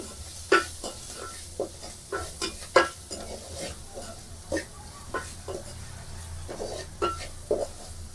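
Buttermilk curry with freshly cut coriander leaves is mixed in a pot, with soft irregular spoon knocks and scrapes over a low steady hum, the strokes fairly close and moderately quiet.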